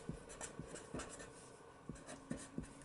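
Pen writing on a screen gives faint, close scratchy strokes and small taps in an uneven rhythm, quiet and alone.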